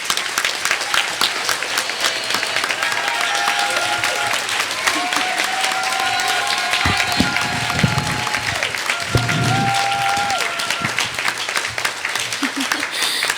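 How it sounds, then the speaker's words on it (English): An audience at an anti-fracking gathering applauds young Sliammon Nation speaker Ta'Kaiya Blaney, loud sustained clapping mixed with crowd noise, sustained tones and scattered voices throughout. "Please, a great round of applause for our beautiful little sister."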